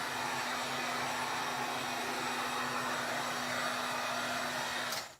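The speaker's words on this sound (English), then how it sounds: "keep the heat gun in one spot for too long" Heat gun blowing on skateboard grip tape while fixing a chipped board, a steady close whooshing roar with a faint constant hum that cuts off abruptly at the end.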